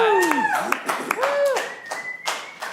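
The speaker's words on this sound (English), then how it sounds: "Everyone, give them a round of applause." A handful of quick hand claps, close and sharp, scattered under loud, expressive voices talking over them at a live stage show.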